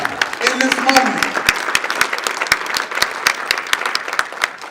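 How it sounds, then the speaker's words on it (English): An audience breaks into enthusiastic applause, a dense run of close, sharp claps that holds steady, with a voice briefly heard near the start. "give yourselves a round of applause right now, in this moment"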